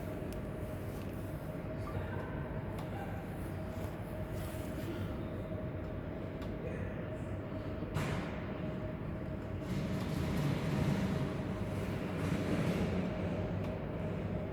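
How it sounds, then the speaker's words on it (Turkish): A model high-speed train rolls along with a steady rumbling hum and a faint whine, growing somewhat louder near the end, with no voices. "Şuradaki tren mesela bunu hareketlendiriyorsun şu hızlı tren."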